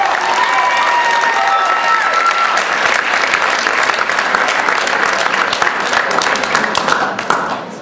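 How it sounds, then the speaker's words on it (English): Loud, sustained applause from a crowd at a school sports awards night, honoring the team manager; dense clapping fills the whole stretch with some cheering and murmured voices, tapering slightly at the end. "Could everybody please give her a round of applause?"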